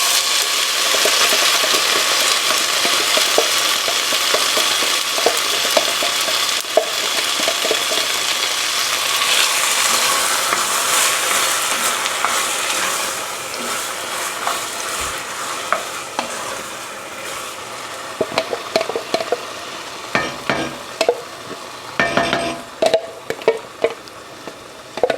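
Tomatoes sizzling loudly in a pan with shallots and basil, stirred steadily so the spoon scrapes and rattles through the frying, the hiss easing toward the end as sharper stirring knocks take over.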